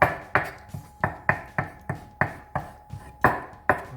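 Ripe persimmons roughly chopped with a knife on a board, about a dozen sharp, close knocks in a quick, slightly uneven rhythm with no talking.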